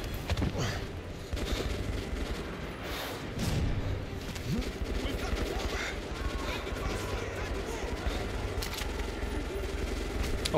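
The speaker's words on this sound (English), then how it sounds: "They brought out the machine gun." Sustained automatic gunfire from a machine gun in the game Metro Last Light Redux, a dense continuous rattle of shots with thuds and mechanical clatter mixed in, loud and steady across the whole stretch.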